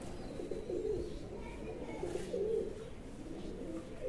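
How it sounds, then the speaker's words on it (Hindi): Pigeons cooing near a rooftop, a soft repeated low murmur of coos in steady phrases, fairly close, with faint background ambience and no clear talk. "ये उसके बिल्कुल ऊपर से होकर कबूतर जाता है ये वाला, ये जो उड़ रहा है"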